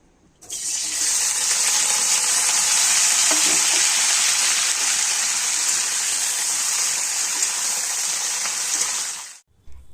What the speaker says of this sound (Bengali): তেলটা গরম হয়ে গেছে এখন এই যে ফুলকপিগুলো দিয়ে দিই